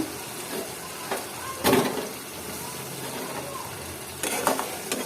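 Tomatoes fry in hot spiced oil in a pan, with a steady close sizzle and a few louder scraping stirs of a spoon against the pan.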